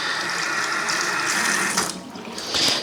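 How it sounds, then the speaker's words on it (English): Tap water runs steadily over a freshly printed custom shirt, a continuous close splashing rush that briefly drops and then surges again as the fabric is rubbed under the stream. "we're gonna run some water under it right here"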